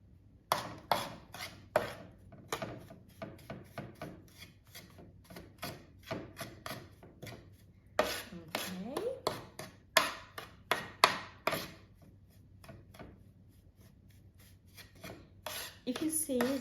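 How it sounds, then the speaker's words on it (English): A spoon mixes baking soda into shaving foam in a bowl, a series of close, soft scraping and clicking strokes in an irregular rhythm with short pauses, quiet and without talk. "Now take your spoon and mix the soda with the shaving foam until it becomes the snow"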